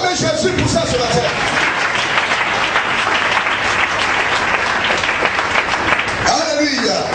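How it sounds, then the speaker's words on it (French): A church congregation breaks into loud, sustained applause that fills the whole clip, with voices calling out over the clapping. "Est-ce que tu peux acclamer Jésus pour ça ce matin"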